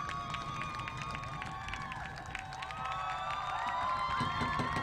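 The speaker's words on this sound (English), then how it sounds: "And listen to this crowd at Whippany Park High School." A home crowd at a high school boys' soccer tournament game between Whippany Park and Cedar Grove cheers and shouts continuously, a broad roar with whistles, heard somewhat distantly under a commentator's voice.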